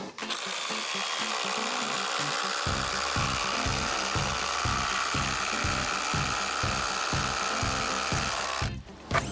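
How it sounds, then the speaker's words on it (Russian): Two cordless impact wrenches, a Flex FX1371A and a DeWalt, run at maximum power driving large lag screws into wood, a loud sustained whir with rapid rhythmic hammering pulses throughout before cutting off near the end. "Оба импакта будут на максимальной мощности работать."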